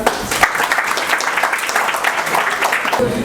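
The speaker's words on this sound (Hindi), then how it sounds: "बजा लो ताली एक बार।" A classroom full of students clapping together in a dense, continuous burst of applause lasting a few seconds, with a few voices mixed in.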